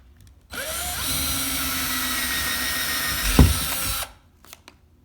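A power drill boring a hole into drywall for an anchor, spinning up abruptly and running as a steady whine for about three and a half seconds with a brief thump, then stopping.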